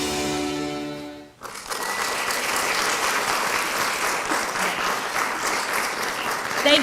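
Applause at a school board meeting, a room full of people clapping steadily after a brief lull, sustained and fairly loud with a swell near the end.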